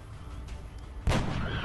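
A sniper rifle shot in XCOM: Enemy Unknown, a single sharp, loud boom arriving suddenly after quiet game ambience, then a short decaying tail.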